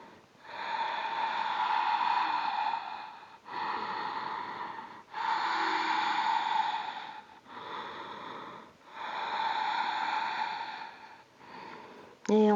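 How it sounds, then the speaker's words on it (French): Slow, deep breaths during a yoga sculpt routine: five long drawn inhales and exhales in a steady rhythm, close and fairly loud, with brief pauses between them. "Encore 3 respirations."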